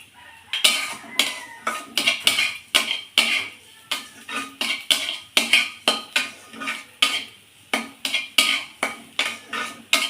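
Spices are stirred into fried taro in a pan. A metal utensil scrapes and knocks against the pan in a close, steady rhythm of about two strokes per second, with no speech.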